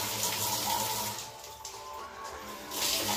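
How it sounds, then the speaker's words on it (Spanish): Water runs steadily from a tap into a sink, a continuous close splashing rush that holds for a few seconds with a slight dip in the middle. "Creo que voy a hacer correr un poco de agua, gente."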